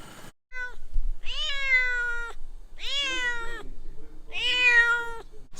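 Four or five cats at a Bedouin camp near Little Petra crowd a tent, meowing for opened tuna: several long, rising-and-falling meows follow one another closely and loudly, with brief gaps between calls.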